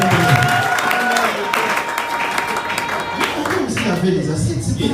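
A live audience applauds loudly and steadily, a dense wash of clapping throughout, with a voice speaking over the top.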